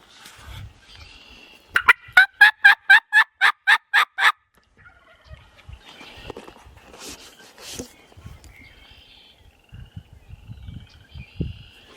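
Wild turkey hen in the Black Hills gobbles in a rapid burst of about ten pulses, fairly close and clear, then faint shuffling footsteps and quiet movement follow.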